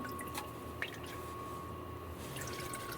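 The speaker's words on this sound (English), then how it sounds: "When you drained all the oil" Engine oil drips from the drain hole of a Toyota RAV4 during an oil change, a faint steady trickle with occasional soft drips over a constant background hum.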